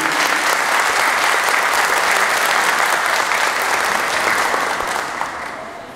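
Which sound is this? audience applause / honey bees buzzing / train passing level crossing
audience applause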